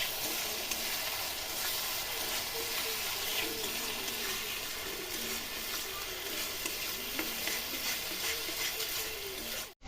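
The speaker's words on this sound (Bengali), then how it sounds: "এবার এই মশলাটাকে ভালো করে আমি এবার কষিয়ে নেব।" Spice paste with chili powder sautéing in a pan, giving a continuous dense sizzle with faint stirring clicks throughout, with no talk.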